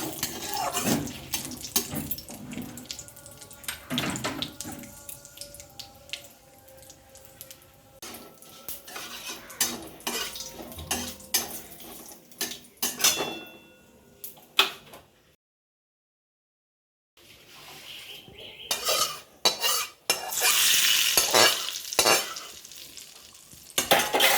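Ghee tempering with panch phoron and bay leaves sizzles steadily in a pan while a spoon stirs and scrapes against the metal, with clattering cookware, one brief drop to silence, then a louder, hissing burst of frying.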